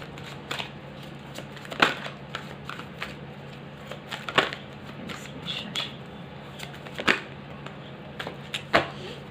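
Tarot cards are slid and drawn from a deck during a reading, giving crisp papery flicks and snaps at irregular intervals, close and moderately loud against a low steady hum.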